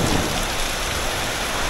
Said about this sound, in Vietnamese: mưa quá to luôn